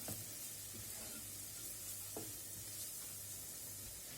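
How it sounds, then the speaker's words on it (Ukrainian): A soft, steady sizzle of flour frying in a pan with carrots and onions, with an occasional light stir or scrape, quiet and close, no voices. "Присмажилось трошки наше борошно"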